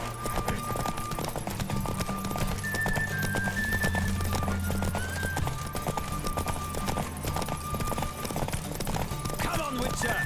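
Hooves pound at a full gallop in The Witcher 3, a fast, steady clip-clop running the whole way under a loud orchestral score with whistling tones and a possible neigh.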